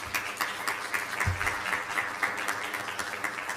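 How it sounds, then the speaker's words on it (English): Applause at a school district board meeting, a sustained wash of clapping from a seated audience, steady and moderately loud for the whole stretch with no voices over it. "we're gonna need to have a big round of applause"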